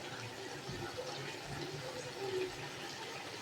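Water pours into a cooking pot of potatoes for a meat curry, a soft steady splashing and trickling heard close for a few seconds.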